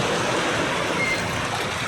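Floodwater from a typhoon's heavy rain in Teresa rushes in a steady, loud, broadband roar, continuous and close, with no talk over it.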